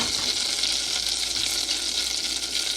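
Butter sizzles steadily in a pan, the start of a simple glaze for a pineapple coconut rum cake; a constant close, loud hissing crackle runs throughout with no voices.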